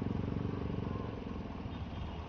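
A Mio i125 motorcycle engine hums and putters steadily up close on a road on the way to a car wash, a continuous low rumble with a slight clattering texture.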